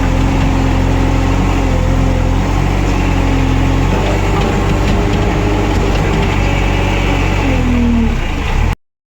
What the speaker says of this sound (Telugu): చూడండి అయితే జేసీబీ ఆపరేటింగ్ అయితే చూడండి ఎలా చేస్తున్నాడు